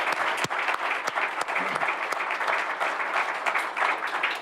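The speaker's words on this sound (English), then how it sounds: "would everyone please join me in a round of applause" Steady audience applause fills a military child recognition ceremony, many hands clapping evenly, with a few sharper claps near the microphone.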